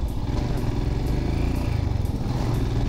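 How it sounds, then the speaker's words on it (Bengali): A Royal Enfield Scram 440 motorcycle engine rumbles loudly and steadily while riding a mist-covered mountain road through forest from Siliguri, a close continuous low drone with wind noise and no speech. "সবুজ অরণ্যের ভিতর আমার গাড়ি গর্জন করতে করতে যাচ্ছে।"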